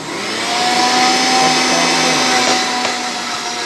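A Vision blender runs while blending coriander leaves, giving a steady loud motor whine with a constant hum that holds throughout, close and with no talk.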